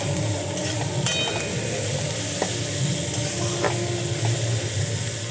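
Shredded cabbage fries in a pan with onion and chili, a steady close sizzle and hiss broken by a few scraping stirs of a utensil, with no voices over it.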